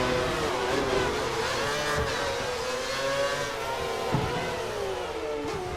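Formula 1 cars in the 2013 game scream past in practice at Shanghai, engines rising and falling in pitch as they approach and recede, loud and continuous with no voices.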